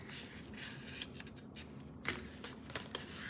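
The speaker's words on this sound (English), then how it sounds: "Just use my ribbon scissors to push it through." Ribbon scissors push fabric through while a double-pocket bag is sewn, giving soft scraping and snipping textures with a few sharper clicks, close and fairly quiet, with no talking.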